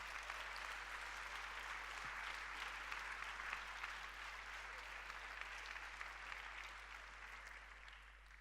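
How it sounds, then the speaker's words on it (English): Conference audience applauding themselves at the 2018 AFS Global Conference in Hungary, continuous even clapping from a large crowd, fairly distant and quiet, with a low steady hum underneath. "Please give yourselves a big round of applause for inspiring and sharing with each other."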